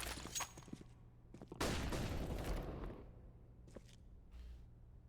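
Faint distant gunfire in CS:GO, a few scattered shots followed by a brief rapid burst of fire, quiet overall.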